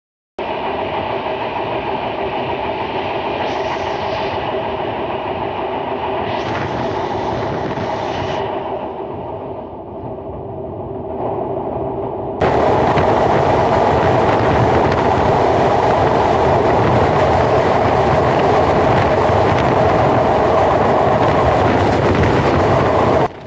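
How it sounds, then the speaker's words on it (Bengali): The Ruposhi Bangla Express passenger train, bound from Dhaka to Benapole, runs on rails with a loud, continuous rumble and wheel clatter heard from on board. The noise swells even louder and broader partway through, with no speech. "একের পর এক স্টেশনগুলো অতিক্রম করে যাচ্ছে আমাদের এই বেনাপোলমুখী রূপসী বাংলা এক্সপ্রেস"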